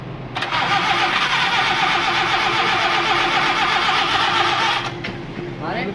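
A car's starter motor cranks the engine in a steady, loud whirring drone for about four and a half seconds without the engine catching, then cuts off; a voice is heard briefly afterward.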